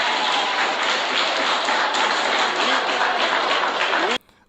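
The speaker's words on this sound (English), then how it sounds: "Of course they will clap." Members applaud in a parliament debate on an electoral reform bill, a sustained broad clapping that holds steady for about four seconds before cutting off abruptly.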